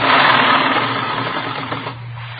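A sewing machine runs steadily as a radio drama sound effect, a continuous mechanical whir with a fast, even stitching patter, fairly loud and close, easing slightly toward the end with no talk.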